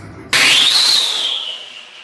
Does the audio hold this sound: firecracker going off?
yes